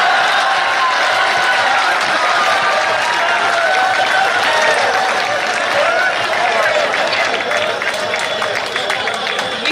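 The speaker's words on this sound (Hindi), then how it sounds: "पहली बार बहुत ढंग से तालियां बजाई आपने" Sustained, loud applause from a live audience at a Hindi comedy poetry gathering (hasya kavi sammelan), dense clapping running steadily throughout with crowd murmur mixed in.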